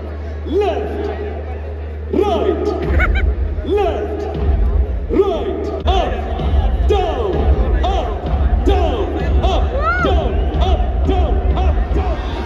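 A packed cricket stadium crowd erupts at a wicket, dense roaring cheers and whoops filling the air continuously, with nearby voices talking over the din.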